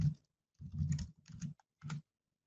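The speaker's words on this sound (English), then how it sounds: "we're going to type in the password" Password being typed on a computer keyboard during a web sign-in, heard as four short bursts of close, quiet key clicks separated by brief pauses.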